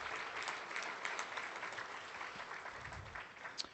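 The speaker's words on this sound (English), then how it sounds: "if you could stand and receive some well-earned applause" Steady crowd applause at an annual gala as advisory council members stand, continuous and even throughout with a few louder claps standing out.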